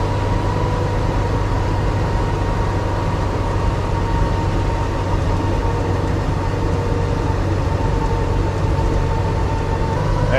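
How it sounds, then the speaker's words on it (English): 6x6 Pinzgauer Steyr Puch military utility vehicle grinding uphill in a lower gear, a constant loud rumbling drone with broad road and engine noise throughout, no talk. "Going up a hill, you have to downshift."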